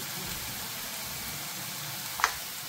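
Tomatoes with turmeric, salt and chili powder frying in a pan for erra kandi pappu, a steady soft sizzle close by with a single sharp clink near the end and no talking.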